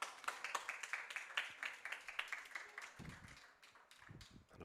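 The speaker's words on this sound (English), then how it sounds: "An applause from the Barons faithful and the Barons dugout." Fans and the dugout applaud at a youth baseball game between the Academy Barons and OC Riptide, a steady patter of scattered distant clapping from the stands, with a few low crowd sounds near the end.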